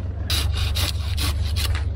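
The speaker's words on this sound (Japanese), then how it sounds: "こういうノコギリですね" Pruning saw cutting through a soft-wooded rose mallow branch during winter pruning, giving about seven steady rasping strokes in a quick back-and-forth rhythm, close and alone over a low background hum.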